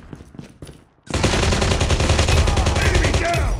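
Rapid automatic gunfire from the Call of Duty: Mobile video game on a Galaxy S10 erupts after a second of quieter game sounds, then keeps going as a loud, continuous burst to the end.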